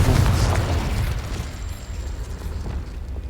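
Confringo explosion spell blast in the Hogwarts Legacy video game, a loud booming burst at the start with rumbling debris that slowly decays over a few seconds, no talking.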